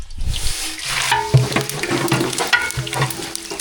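Hot oil sizzles and crackles steadily as cinnamon and whole spices are stirred in a pan for chicken biryani, with scraping clinks and bubbling close by.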